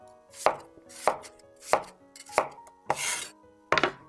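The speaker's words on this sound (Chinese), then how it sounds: "土豆也切成滚刀块" A knife chopping potatoes into chunks on a cutting board, six crisp, evenly spaced chops about half a second apart, close and clear with nothing else heard.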